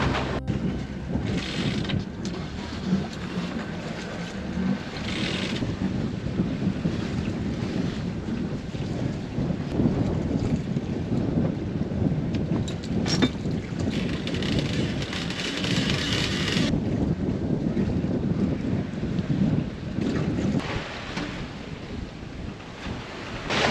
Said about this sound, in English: Brought the head sail out just so we could see what we could do with 10 knots of wind.